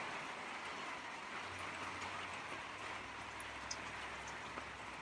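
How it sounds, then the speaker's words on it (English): Steady rain and wind on a gloomy day make a continuous hiss with a low rumbling undertone and a few faint drips, fairly quiet and with no talk. "It's the wind and the rain."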